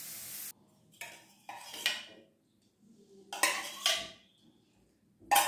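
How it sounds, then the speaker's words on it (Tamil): Sautéed pirandai being scraped and moved into another cooking vessel, with several distinct bursts of metal utensil clatter and scraping against the pan separated by short quiet gaps, close and moderately loud. "நம்ம வேறு பாத்திரத்துக்கு மாற்றிக்கலாம்."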